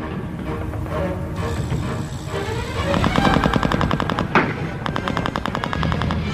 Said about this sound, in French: De violents combats éclatent alors entre les soldats alliés et les chars et panzer grenadiers allemands.